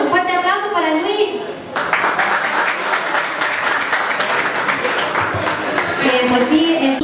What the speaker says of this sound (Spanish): Un fuerte aplauso para Luis.